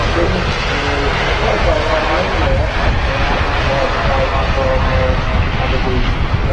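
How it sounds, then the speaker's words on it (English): KLM Boeing 737 airliner departing Manchester Airport, a loud, steady broadband engine roar with rumbling low end that holds constant throughout, heard from outside at the airfield. "KLM 737 using a very late intersection there to depart"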